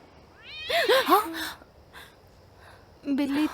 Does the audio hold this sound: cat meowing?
yes